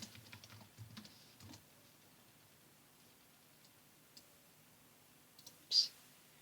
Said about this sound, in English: you want to type in kill block.